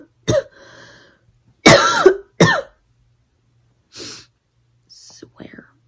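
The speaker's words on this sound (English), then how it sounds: "This cough needs to go away." A person with a lingering cough gives a few sharp coughs and throat-clearing bursts indoors, close to the microphone, separated by quiet gaps with faint breathy sounds.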